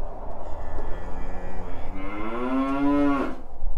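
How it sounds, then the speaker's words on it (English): A cow lets out a long, loud, rising moo nearby in an open Texas field, heard over a rumble of wind and background noise. "right here in front of a bunch of cows"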